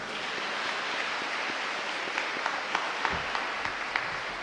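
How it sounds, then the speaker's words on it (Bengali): An audience at a church ceremony installing a new parish priest claps loudly, a broad wash of many hands with a few sharper nearby claps standing out. "আরেকবার জোরে হাততালি দিই।"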